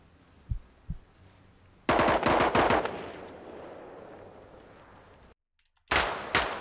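Gunfire in the video game Arma Reforger: two isolated shots, then a dense burst of rapid automatic fire fading into a rumbling tail, a sudden cut to silence, and another burst, close and loud.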